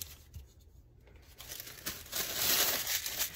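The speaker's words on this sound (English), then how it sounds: "I like to crumple it up before I place it" Tissue paper crumpled by hand for making fabric paper, a soft close crinkling that starts faint and grows into a denser, louder rustle over a few seconds.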